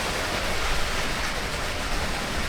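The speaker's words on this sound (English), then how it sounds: "The water feature's just turned on, so there's a little bit more background noise" Constant rushing splash of a garden water feature, close and steady like a small cascade, with no pauses or speech.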